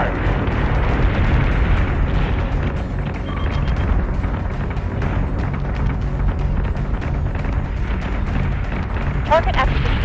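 Warship guns blaze away in the space combat game Battlestar Galactica Deadlock, a loud, continuous barrage of overlapping booms and blasts rolling on without pause, with voices in the mix.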